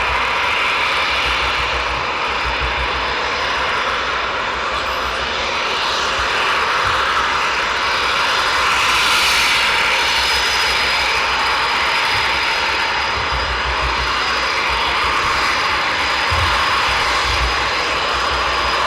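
Eurofighter Typhoon jets taxi at RAF Coningsby at night, their engines a loud, steady, continuous roar with a broad rumble and a high whine holding throughout.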